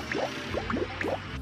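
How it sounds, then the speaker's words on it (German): Cartoon liquid drips from a tanker truck's tank, three quick bubbly plops in an even rhythm, close and faint. "Und da tropft etwas aus seinem Tank."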